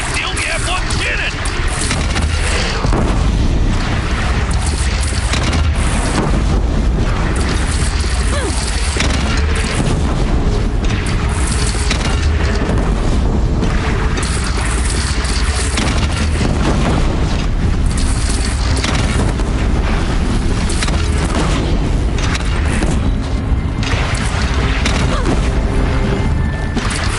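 Cannon fire and explosions in the video game Horizon Zero Dawn, heavy booming blasts rumbling continuously through a dense, loud battle din that runs the whole time, with voices shouting in the mix.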